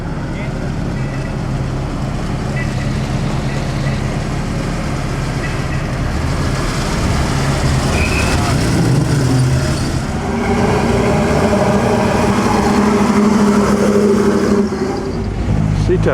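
A vintage Ferrari race car pulls away at the 2009 Mille Miglia, a steady loud engine drone with rising tones that builds toward the end, set against a busy crowd background and voices.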